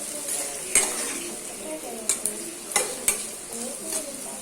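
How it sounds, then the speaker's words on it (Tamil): Onions and fennel seeds sautéing in a pan for potato masala: a steady close sizzle with a spoon repeatedly scraping and clanking against the pan in short bursts. "நல்லா வதக்கி விடணும்."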